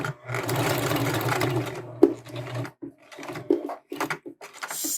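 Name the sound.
sewing machine stitching a quilt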